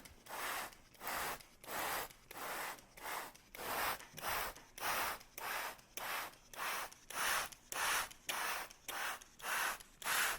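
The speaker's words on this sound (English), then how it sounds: "Spray them." Microgreen trays misted with a handheld spray bottle: a long, steady run of about twenty evenly spaced, hissing squirts, each short and close, repeating at a brisk rhythm with no talk.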